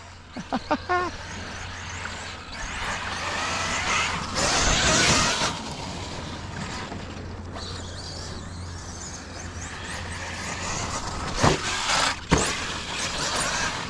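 An upgraded Arrma K8 RC car drives hard and front-flips under braking, with loud mechanical whirring, rattling and thumps in a close outdoor setting. Brief shouting breaks in near the start and end.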